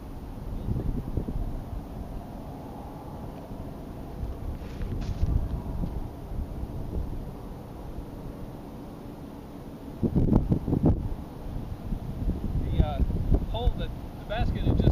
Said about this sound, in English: there's a bit of a breeze out here, so it may affect the actual flight of the disc